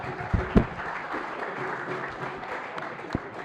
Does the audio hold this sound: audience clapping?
yes